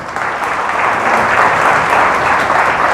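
A church congregation applauds loudly and densely, a thick wash of many hands clapping close and continuous without pause.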